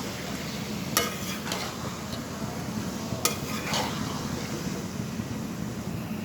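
Mixed vegetables stir-fried in a pan for fried rice, a steady close sizzle with a few sharp scraping clinks of a utensil against the pan, no voices.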